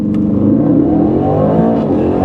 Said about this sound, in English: holding my foot on the brake, pinning the throttle, building up the revs, letting it go